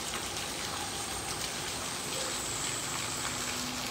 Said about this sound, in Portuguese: Muita chuva, já tem algum tempo que chove.